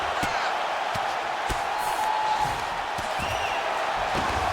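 A large crowd at a women's MMA fight roars and cheers in a steady wash of noise, with sharp thuds and slaps cutting through now and then.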